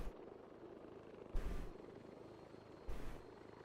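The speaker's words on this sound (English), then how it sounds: "I definitely hear a helicopter." Armed Orca helicopter approaching in a combat video game, heard as a faint, distant, steady rotor rumble under low background noise, with two brief louder swells.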